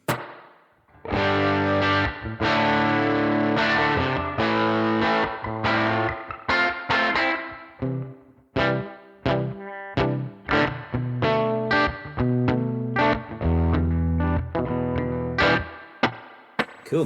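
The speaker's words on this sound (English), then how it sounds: "Okay, so we've got a spring reverb." Electric guitar played through a spring reverb effect on a Headrush Gigboard, loud distorted chords and single notes ringing out with a lingering reverberant tail, some short choppy stabs in the second half, no talking.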